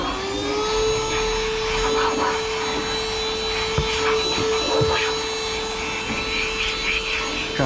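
A vacuum cleaner sucks rubbish out of a vehicle's interior, a steady close-up drone with a constant whine running throughout, broken by a few brief knocks and rattles as debris is drawn in.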